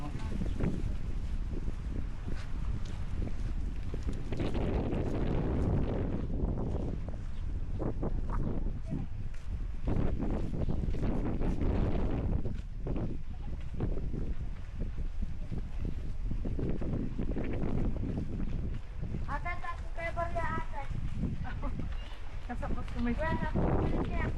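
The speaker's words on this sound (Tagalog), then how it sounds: "Ay, sobrang hangin po." Strong wind buffets the microphone in a constant roar on Boracay, with people talking over it throughout.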